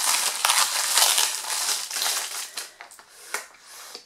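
Plastic packaging of a balloon pump crinkles and crunches as it is torn open, a close, continuous rustle that thins out into a few separate crackles near the end.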